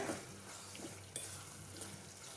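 Puliyogare powder mix is stirred in a pan, making a soft scraping sizzle with a light utensil tap, all quiet and close.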